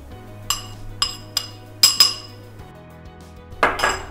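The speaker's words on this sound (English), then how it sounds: "For the final frosting, we mix in 120 grams powdered sugar bit by bit." Powdered sugar is being mixed into cream cheese frosting in a bowl, with a utensil clinking against the bowl in several separate taps and scrapes over a low background hum, close up and without talk.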